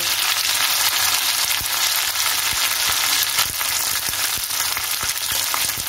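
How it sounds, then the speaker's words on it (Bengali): Ginger paste fries in hot oil for a Bengali koi fish curry with cauliflower and lentil dumplings, a steady loud crackling sizzle with occasional sharp ticks of a spoon stirring, no voices. "আর এই দিয়ে দিলাম আদা বাটা"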